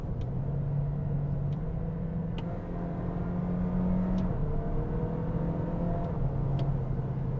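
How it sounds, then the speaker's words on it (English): Engine of a Toyota Corolla Hatchback SE Nightshade with a CVT, shifted with paddles, droning steadily inside the cabin as its pitch steps down and up between simulated gears, with no talking. "You can hear the changing of the pitch of the engine."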